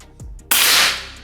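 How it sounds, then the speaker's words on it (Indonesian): An SR Super Tactical gun fires one sharp, sudden test shot with a bright burst that fades over a fraction of a second, after a soft click beforehand. "Oke, kita coba tembakan pertama."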